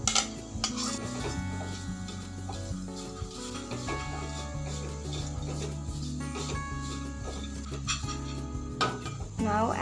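Dry fruits and raisins being added to a pan with dates paste and stirred for a protein bar recipe, with continuous clinking, scraping and rattling of a utensil against the metal pan, close and steady.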